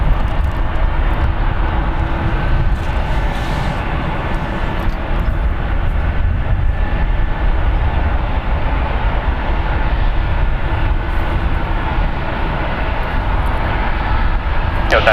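A United airliner spools up for departure on runway 1 left at San Francisco International Airport, a loud steady jet engine roar that fills the scene, while a person talks over it.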